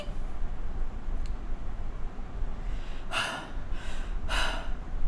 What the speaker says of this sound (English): Breathing heavily,